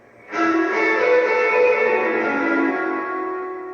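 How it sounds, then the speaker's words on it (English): A sustained guitar chord drenched in heavy reverb from a Mr. Black Bloodmoon pedal at full mix, ringing out full and washy, slowly decaying without fading away. "you can go full mix reverb"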